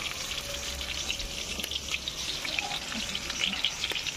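Fish frying in a pan with bay leaf at a picnic gives a steady, close, crackling sizzle with faint spattering pops and no talk.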